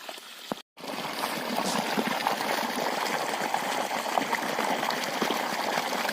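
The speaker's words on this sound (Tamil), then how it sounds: "இப்போ மூடிடுச்சு, லைட்டாக தண்ணி வருது." Water flows steadily from the outlet of a 3-inch delivery BLDC solar water pump (60 V, 600 W) used for farm irrigation, a continuous near splashing stream after a brief dropout at the start.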